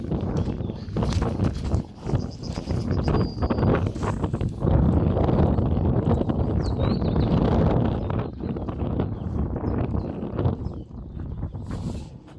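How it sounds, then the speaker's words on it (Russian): Cold wind blows across a deserted sandy beach on the Oka River in Russia, a steady broadband rush with gusty buffeting against the microphone, rising and falling throughout, with no voices heard. "Пустынный пляж, холодный ветер."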